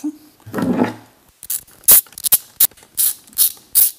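A ratchet fitted with a 9 mm socket tightens the screws on a gearbox casing, giving a run of short, sharp clicking bursts at a steady rhythm, close by. A low knock or handling noise comes just before them.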